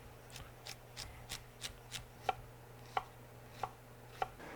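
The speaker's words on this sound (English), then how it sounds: "let's cut this celery" A knife chops celery on a cutting board in a kitchen: about ten crisp, evenly spaced chops, close and clear, with the later strokes landing harder over a low, steady background hum.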